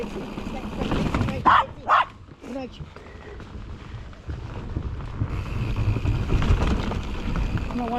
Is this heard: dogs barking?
yes